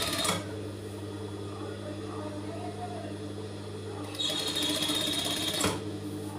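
Sewing machine stitching along the folded edge of a cotton handkerchief, a steady whirring hum that swells louder in a faster burst near the end, close up with low background noise.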